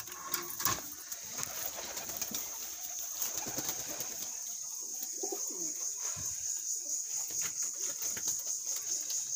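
Imported-bloodline Teddy pigeons coo repeatedly while being handled, their soft low calls recurring at a moderate distance, with occasional chirps and a brief flutter of wings over a high steady background tone.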